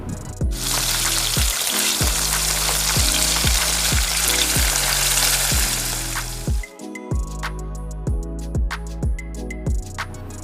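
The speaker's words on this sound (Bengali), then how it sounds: "এক এক করে মাছগুলোকে গরম তেলের মধ্যে দিয়ে দেব।" Loud, steady sizzle of catla fish pieces frying in hot oil, continuous crackling throughout, with a rhythmic low thumping beat running underneath.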